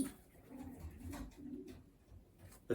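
Racing pigeons in a loft give soft, low cooing phrases that repeat several times in a quiet, slightly distant space, with a brief sharp sound at the very end.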